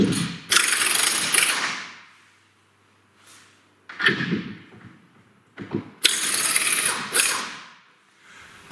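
A hand ratchet works the nuts off the mounting bolts of an outboard motor, several close bursts of rapid clicking separated by pauses, loud with no talk.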